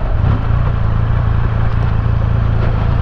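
A flexible car engine pulling again from barely 1000 rpm, a close, steady low rumble with no speech.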